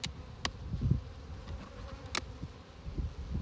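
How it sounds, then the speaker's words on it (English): Honey bees buzz around a hive entrance, a steady close insect drone with a few sharper passes and brief knocks, no voices. "you've got some little bees up here on the corner kind of doing a little dance"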